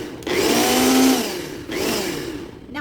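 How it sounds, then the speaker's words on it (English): A kitchen blender pulses keto sweetener such as stevia into powdered sugar: two loud whirring bursts, the first longer, each starting abruptly and winding down, close up with no talking. "put it down into the blender."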